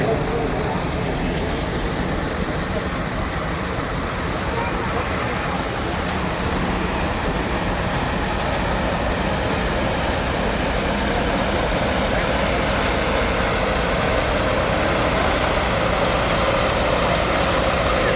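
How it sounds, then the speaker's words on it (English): A 1951 Case DC tractor pulling a John Deere 4-bottom plow in a parade at a North Dakota show, its engine a steady, loud, continuous drone close by under an announcer's voice. "'51 Case DC pulling a John Deere 4-bottom plow"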